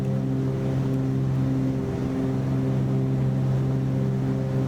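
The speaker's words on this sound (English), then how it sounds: "you can hear for yourselves there is quite a significant change in engine tone with the prop RPM" Twin propeller engines of a Cessna 310R in Microsoft Flight Simulator, heard during a landing approach with flaps set, droning steadily and loudly throughout with no talk.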